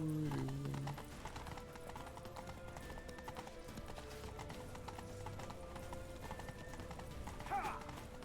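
Horse hooves clip-clopping in The Witcher 3, a steady rhythmic patter of galloping hooves running under game music and ambient tones, with a brief whinny-like sound near the end.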